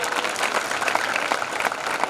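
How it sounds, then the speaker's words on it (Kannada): A crowd at a Sri Rama Navami gathering in Biranagaddi village claps loudly and continuously for the village elders, a dense burst of applause throughout. "ಈ ಊರಿನ ಹಿರಿಯರಿಗೆ ಒಂದು ಜೋರಾದ ಚಪ್ಪಾಳೆ ತಟ್ಟೋಣ"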